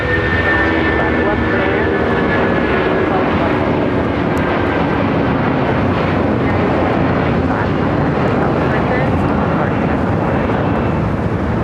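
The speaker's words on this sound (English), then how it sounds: "This is United Airlines 2495 taking off to Houston Intercontinental on a 757-200." United Airlines Boeing 757-200 taking off, a loud, dense, continuous jet engine roar that stays strong and steady from start to finish, with voices faintly mixed in.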